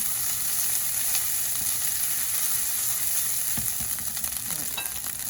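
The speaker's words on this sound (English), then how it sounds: "Now you're gonna let it sit for a little bit to get the rice nice and crispy." Dungeness crab fried rice sizzles steadily in a pan, a dense close crackle with the occasional clink of stirring and no voices.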